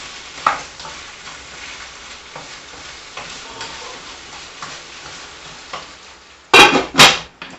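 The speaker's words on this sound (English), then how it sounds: "Gonna just go ahead and give these a little toss up in here." Ribeye steak strips for fajitas fry in a pan with a soft, steady sizzle and scattered stirring scrapes, then two loud bursts of sizzle as the meat is tossed near the end; no speech.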